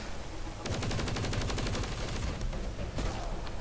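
Rapid automatic wonder weapon fire in Call of Duty Cold War Zombies, a dense rattling burst lasting about two seconds, then a brief pause and a shorter second burst, loud and close over a game soundscape.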